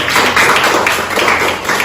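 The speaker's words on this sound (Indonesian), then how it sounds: "Oke, tepuk tangan dulu" A classroom of students claps together in a dense, close burst of applause that stays loud and even for a couple of seconds before tapering slightly.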